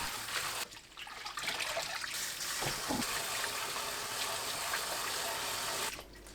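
Cold tap water runs and splashes in a sink while blanched fatsia shoots are rinsed, a soft, steady gush with brief sloshes and handling noises, fairly faint and close throughout.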